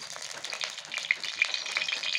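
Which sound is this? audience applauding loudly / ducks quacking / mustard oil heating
mustard oil heating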